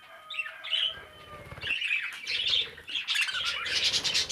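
Recessive harlequin pet birds chirp and squawk in short bursts, with soft flapping of wings mixed in, close and fairly quiet, no talking.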